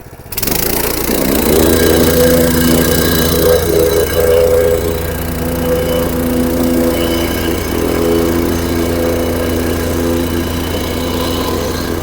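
A loud, steady engine of a Dro-Masz DRB90C plate compactor drones throughout after a short start, a rough mid-pitched machine running continuously close by with no voices.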